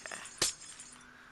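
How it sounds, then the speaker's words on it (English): A single sharp crash of glass breaking in the Minecraft video game, brief and bright, with a little clatter before it and faint background hum after. "No, I just break glass, that's all."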